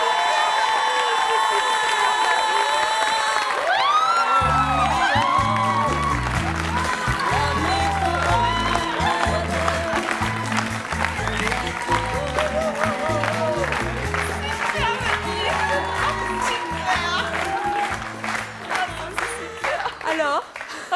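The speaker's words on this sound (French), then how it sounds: "Je vous demande de l'applaudir très chaleureusement." A studio audience on a French talk show bursts into loud, sustained applause and cheering that runs to the end, with a bright musical jingle beneath and occasional shouts.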